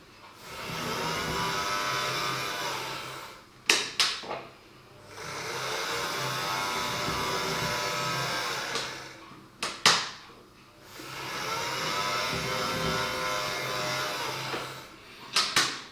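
An O gauge Dapol Class 09/08 model locomotive's noisy gear drive whirs and grinds steadily in three long runs, each ending with brief clicks and clunks, moderately loud and close, no voices.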